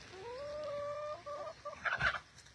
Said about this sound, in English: Can you see down at my feet? I've got all my little chicken buddies.